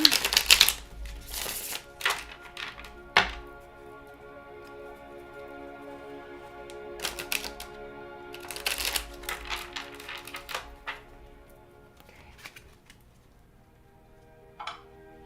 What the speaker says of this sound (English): I want a good shuffle on them before we begin with the next sign.